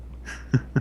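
A trash can creature in a video game gives two short, punchy barks about a quarter second apart, close and fairly loud, after a faint higher rasp.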